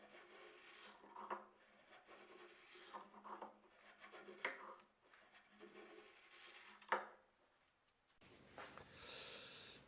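A multipurpose sander shapes the concave wooden headboard of a Maloof-style rocking chair, making quiet intermittent rubbing and rasping strokes at close range, followed by a brief, brighter burst at the end.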